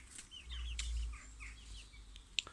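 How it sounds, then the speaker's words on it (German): Chickens cluck softly in a backyard flock that includes a Silkie and Sundheimer mix rooster chick, with faint high calls scattered over a low steady rumble and one sharp peep near the end. "Aber das ist der Gockel, also vom Seidenhuhn da, das Küken."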